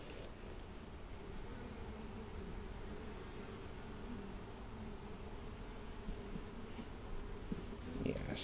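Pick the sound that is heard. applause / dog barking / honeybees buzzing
honeybees buzzing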